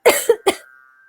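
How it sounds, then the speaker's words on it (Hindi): Three quick, close coughs in a row, the last one trailing off into a faint lingering tone. "खांसी."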